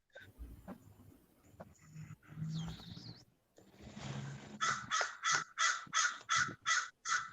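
Crows caw close by, a quick run of about eight loud, harsh, evenly spaced calls following quieter rustling and faint background sounds.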